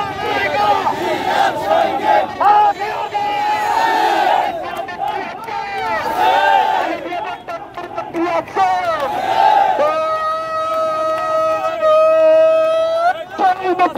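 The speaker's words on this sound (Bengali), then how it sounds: "তারা তারেক রহমান এবং খালেদা জিয়াকে নিয়ে বিভিন্ন ধরনের স্লোগান দিচ্ছেন" A crowd of BNP activists at a protest march in Madhabpur, Habiganj, chants slogans in loud rhythmic unison, with a lead voice calling out and the group answering back in repeated waves.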